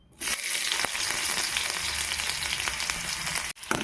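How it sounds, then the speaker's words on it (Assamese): Onions hit hot oil in a pan and sizzle loudly and steadily, a dense crackling fry that continues alone for several seconds before a brief pause. "পিঁয়াজখিনি অকণমান ভাজি ল'ম।"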